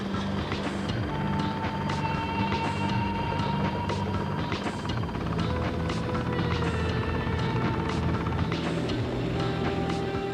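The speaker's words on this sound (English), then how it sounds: "She's accustomed to the deafening noise and turbulent winds of the helicopter." A helicopter hovers over water during Coast Guard-observed rescue dog tests in Italy, its rotor and turbine drone steady and continuous throughout with a rushing windy wash beneath it.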